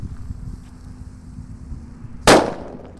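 A paper-wrapped firecracker bursts with one sharp, loud bang near the end, its crack trailing into a short decaying rumble over a low outdoor background.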